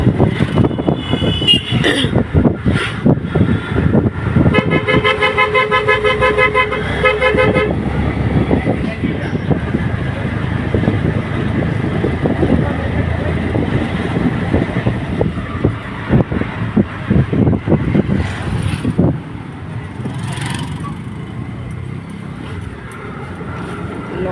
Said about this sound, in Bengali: এখন অটোতে করেছি অটোতে বসে আছি যাচ্ছি স্টেশন